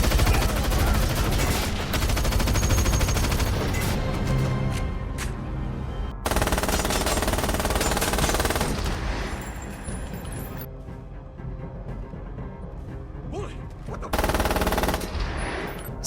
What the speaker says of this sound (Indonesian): dia harus terkena tembakan yang dilakukan oleh Bullet dan dilanjutkan menghabisi Dave